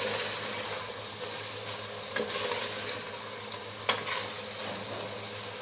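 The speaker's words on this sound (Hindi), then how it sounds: "इसको भूनेंगे हम फुल फ्लेम के ऊपर।" Mutton korma masala fries on full flame in a pot, giving a steady loud sizzle with occasional scrapes of stirring.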